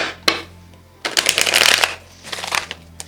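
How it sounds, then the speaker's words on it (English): Tarot cards are shuffled close up in a few quick riffling bursts, crisp and papery, with no talking. "Let me do one more shuffle because that one got wacky."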